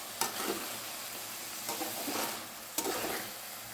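Vegetarian ghugni sautéing with spices gives off a soft, steady sizzle. Three brief spoon scrapes are spaced out over it, all fairly quiet and close, with no voices.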